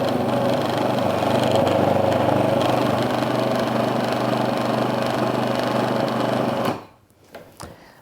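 A food processor whizzes fat and flour into crumbs with a loud, steady motor whir for several seconds, then cuts off, leaving a few faint clatters.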